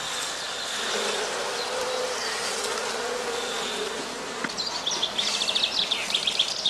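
Honey bees buzz steadily at a traditional straw skep hive in the heathlands of northern Germany, a dense continuous hum with a few brief chirping bird calls rising toward the end.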